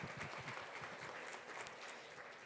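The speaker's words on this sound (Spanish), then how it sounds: "vamos a aplaudir" An audience claps at a university panel on the Amazon and Laudato Si': dense, steady, fairly faint applause lasting throughout.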